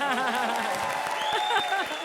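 A studio audience at the Comedy Circus TV comedy show applauds and cheers the judges, with scattered claps and crowd noise under a sustained musical or vocal tone.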